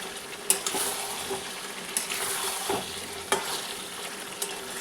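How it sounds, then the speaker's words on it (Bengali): Chicken pieces frying and being stirred for egg biryani, a continuous sizzle with repeated scraping strokes of a spatula against the pan, close and fairly loud. "মাংসটা কষা হচ্ছে।"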